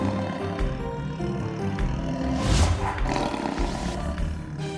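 Lion roaring loudly and continuously, deep rumbling roars swelling to a peak midway, with no voices over it, in a report of wild lions hunting where cars once drove.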